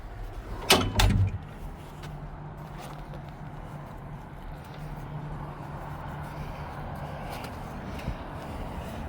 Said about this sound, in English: Open up some cabinets.